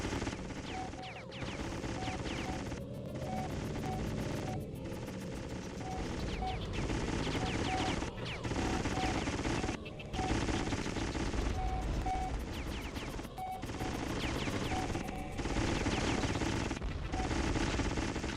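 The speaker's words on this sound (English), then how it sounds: "Alright, well this must be it, considering they're shooting at me" Enemy gunfire in the video game G-Police, rapid machine-gun bursts repeating in a steady rhythm with brief pauses between volleys, loud and close over a continuous engine drone.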